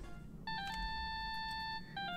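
Electronic phone ringtone from the Phoenix Wright: Justice for All video game, a short bright melodic trill of steady beeping tones over a low background hum, with no talk.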